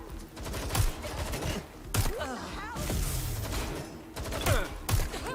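Gunfire in Watch Dogs Legion: bursts of rapid shots and thuds mixed with game voices and radio chatter, loud in places and broken by short pauses.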